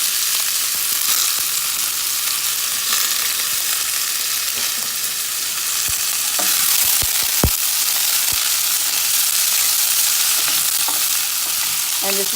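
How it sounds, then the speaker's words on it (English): Tomatoes, onions, cilantro and red and green peppers sizzle and fry steadily in olive oil in a pan, a loud continuous crackle with occasional stirring knocks and no talk. "I put some olive oil in a pan, and we're going to go ahead and put tomatoes, onions, cilantro ancho, red green peppers,"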